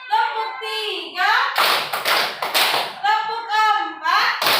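Schoolchildren in a classroom clap in unison during a morning counting routine, with three sharp claps landing close together between a teacher's spoken count, the group clapping loud and near.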